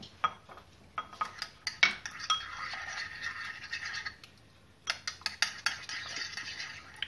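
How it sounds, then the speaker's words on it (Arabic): A spoon stirs and scrapes briskly against a bowl while salad dressing is thinned with milk, giving repeated clinking taps in two bursts with a short pause between them. "وكنحركو مزيان حتى نحس ولا الكتافه اللي بغينا"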